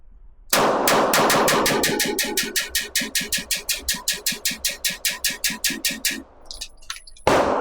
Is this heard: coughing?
no